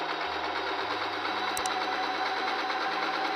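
A sewing machine stitching satin fabric runs up close with a steady, fast mechanical whir and hum, a faint click partway through, and no voices.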